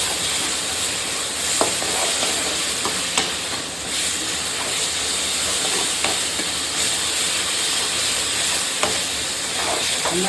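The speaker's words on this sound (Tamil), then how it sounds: "நல்லா வதக்கணும்" Ingredients for prawn thokku, with ginger-garlic paste added, sizzle and fry steadily in a pan, stirred throughout, with a continuous close hiss and occasional scraping ticks.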